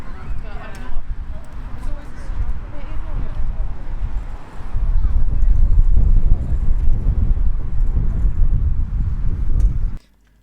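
Strong gusting seaside wind on a coastal walk at Margate, England, buffets the microphone with a low rumble, growing louder partway through, while a person speaks.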